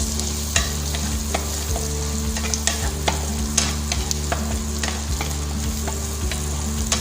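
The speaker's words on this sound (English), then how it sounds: "we saute till the garlic and the onion a little bit of translucent" Garlic and onion sautéing in a pan, a constant close sizzle with a low steady hum beneath and regular sharp spatula taps and scrapes, no talking.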